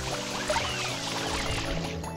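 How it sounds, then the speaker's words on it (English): Water spray from Super Mario Sunshine's video game nozzle, a steady hissing gush that runs throughout over layered background game music. "I'm going to spray it with water."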